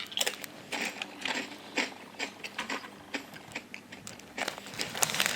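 Someone bites and crunches lightly salted crackers close up, with several crisp, brittle snaps and grinding chews coming in irregular bursts and no talking.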